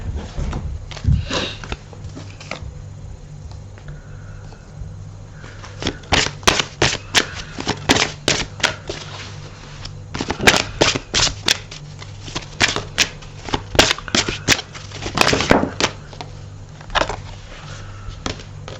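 Oracle cards being shuffled and drawn by hand: bursts of crisp riffling clicks and sharp flicks, loud and close, with quieter handling between them and no speech.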